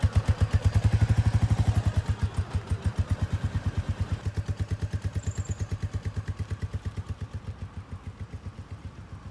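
A motorcycle in first gear idles and is eased along during throttle control practice. Its engine gives a loud, steady, rapid thumping close by that fades slightly toward the end.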